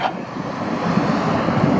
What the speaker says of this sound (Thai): วันนี้ลมนะ ถ้าเสียงไม่ชัดก็ขออภัยท่านผู้ชม